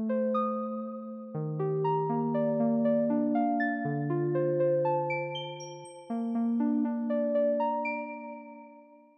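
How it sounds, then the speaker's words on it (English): A regular stereo synthesizer plays a slow melodic line of clean, bell-like tones, each note ringing and fading before the next, with a brief gap before the phrase restarts; moderately quiet and heard alone. "We have a regular synthesizer that sounds like this."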